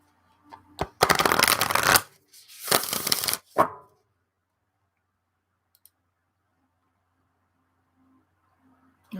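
Oracle cards are shuffled by hand in two quick riffled bursts, crisp and close, followed by near silence with a faint tap or two.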